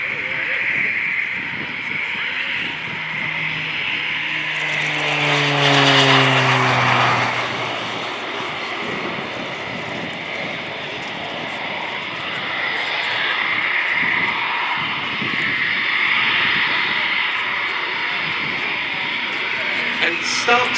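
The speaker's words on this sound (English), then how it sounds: "it's the Pilatus PC-9M" Pilatus PC-9M propeller trainer flying a display at an air show, its engine drone swelling and dropping in pitch as it passes, with a commentator talking throughout.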